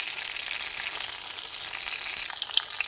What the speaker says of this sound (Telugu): బెండకాయలు కూడా బాగా మగ్గబెట్టుకున్నాం